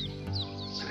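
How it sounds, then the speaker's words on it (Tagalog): Hen clucking beside her recently hatched chicks on a small backyard poultry farm, a brief, steady clucking close by with no talk over it. "So, ayan po yung mga sisiw niya."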